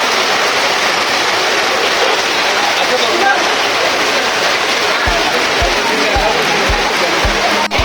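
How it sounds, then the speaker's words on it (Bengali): Rain falling outside at a fish market by the Padma, a dense, loud, continuous wash with a few low knocks near the end, heard alone. "বাইরে বৃষ্টি হচ্ছে"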